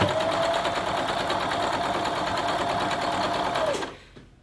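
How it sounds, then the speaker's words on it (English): A sewing machine chain-piecing quilt block pieces for a Colorado block, stitching in one continuous close, even whir for nearly four seconds before stopping, followed by a faint handling sound. "So we're just chain piecing these all together."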